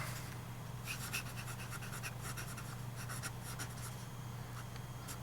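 A Franklin-Christoph 66 fountain pen nib scratching across paper in short, close strokes, soft and intermittent over a faint steady hum, with no one speaking.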